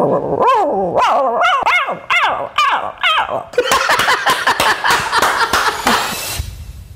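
A voice imitates a small dog, giving a run of short, sharp yips and barks up close, then trailing into a rougher growl-like noise.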